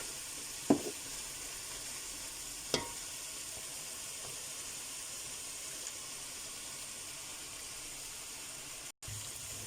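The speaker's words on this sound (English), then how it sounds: "we're going to let this fry for about a minute until the curry powder has cooked in the oil and has coated the meat nicely" Mutton pieces coated in curry powder fry in hot oil, a steady close hiss and sizzle with a couple of faint knocks from a spoon, no talk.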